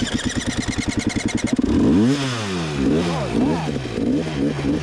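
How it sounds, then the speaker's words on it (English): A Gas Gas enduro motorcycle at a hard enduro race loses power and stalls: a rapid chugging idle pulse gives way to loud, wavering revs that surge and sag repeatedly, close to the microphone, with no speech. "So the bike is definitely suffering in power right here. And it's like kind of stalling out on me."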